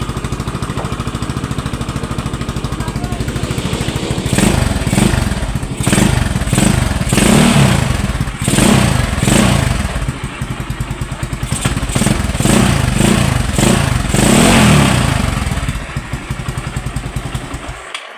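A sporty motorcycle fitted with a budget exhaust pipe and silencer idles loud and close, then revs again and again in a rough, throbbing pattern. No one speaks.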